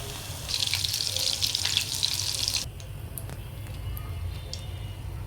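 Chicken popcorn pieces dropped into hot oil set off a bright, hissing sizzle that runs loud for a few seconds, then settles into a quieter, steady bubbling fry.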